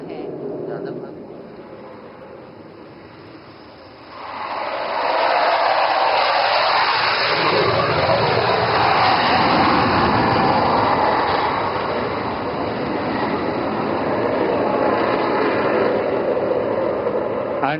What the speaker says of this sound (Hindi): साइन अभिमन्यु 2 जिसका संचालन स्क्वाड लीडर जानगुड़े कर रहे हैं, ओवरशूट के लिए अग्रसर है।